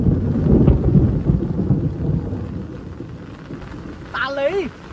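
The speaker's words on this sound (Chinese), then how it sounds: "打雷！" Thunder rolls in a deep, loud rumble during a heavy, prolonged rainstorm at a rural fish farm. The rumble peaks early, then fades into steady rain, and a voice exclaims briefly near the end.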